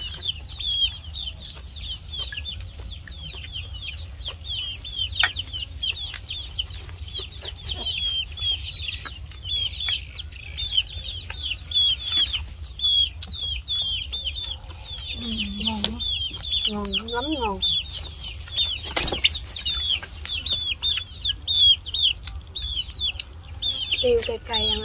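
Backyard chickens cluck and chatter in a steady flock chorus through the whole stretch, with a few louder close calls and brief wing flaps near the middle, while people talk over them at a riverside home meal.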